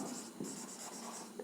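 Marker or chalk writing out a physics formula on a classroom board, a steady scratchy stroke sound with short pauses between strokes, close and fairly quiet, with no talking.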